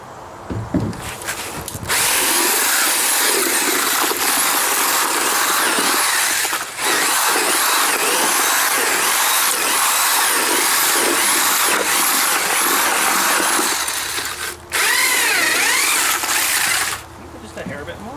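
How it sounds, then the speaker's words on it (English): A Milwaukee drill with a mixing paddle churns concrete in a bucket for small pads. It gives a loud, steady grinding whir that runs for long stretches, with a few short pauses where the drill stops and starts again. "Good test for the Milwaukee drill, eh?"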